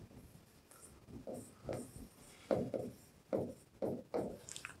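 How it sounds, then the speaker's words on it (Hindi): A pen scratches out notes on paper in short, uneven strokes, quiet and close, with small pauses between words and no one speaking. "तो चलिए इन पॉइंट्स को लिख लेते हैं।"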